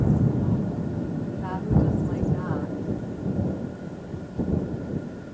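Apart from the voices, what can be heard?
thunder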